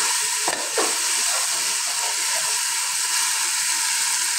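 A tablespoon of ginger garlic paste fries in a pan for Sylheti akhni while being stirred. It makes a loud, continuous sizzling hiss, with a couple of soft stirring scrapes near the start.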